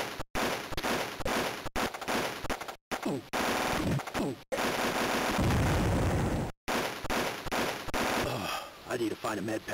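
Bursts of automatic rifle fire from the Game Boy Color game Army Men, crunchy chiptune shots repeating in rapid clusters with brief silent gaps, loud and dense throughout.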